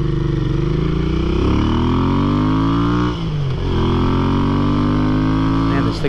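A Royal Enfield Interceptor 650 twin revved hard with a free-flow air filter, the loud engine rising in pitch, dipping briefly, then climbing again, up close and steady with no pause.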